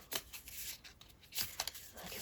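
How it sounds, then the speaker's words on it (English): Oracle cards are shuffled by hand in quick, soft papery riffles and slaps with uneven rhythm, close but quiet, with no talking. "give them another shuffle"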